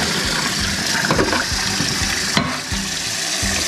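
Water pouring and splashing as boiled beets are drained into a sink, a steady close gush with a few clunks, and no voices.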